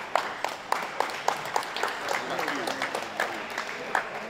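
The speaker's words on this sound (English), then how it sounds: "Nice little round of applause." Scattered applause at an amateur football game as an injured player is helped up, sparse claps with crowd murmur and voices underneath, moderately distant.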